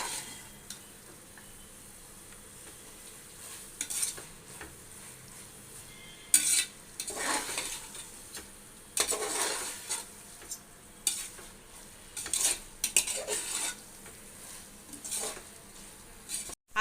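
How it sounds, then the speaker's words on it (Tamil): Mixed vegetables sauté in a pan for vegetable biryani, a soft steady sizzle broken by intermittent scraping and clattering bursts of a spoon stirring against the metal, with no talking. "இந்த டிஷ்ஷோட சீக்ரெட்டே காய் நல்லா வதங்கணும்"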